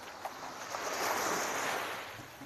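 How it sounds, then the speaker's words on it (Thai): Sea waves washing against a rock on the shore at Bang Saen, heard as a soft, steady surge of surf with some wind, fairly faint and without talking. "โดนคลื่นซัดไปรอบหนึ่ง"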